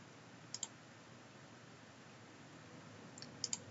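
Two pairs of quick, sharp mouse clicks on a share icon, one pair early and another near the end, faint and isolated against quiet room noise.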